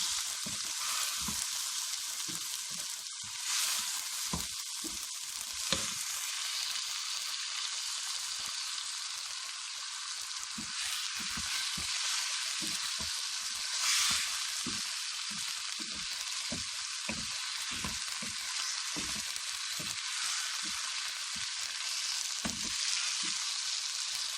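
Chicken pieces fry in a pan for a chicken tinda dish, giving a continuous sizzle broken by frequent crackles and pops, close and fairly loud with no talking.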